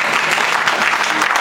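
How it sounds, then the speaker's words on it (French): A crowd claps loudly and densely for Elsa, a brief, close burst of steady applause. "j'aimerais qu'on applaudisse très fort pour elle"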